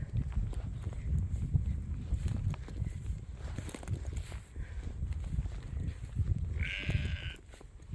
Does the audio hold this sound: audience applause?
no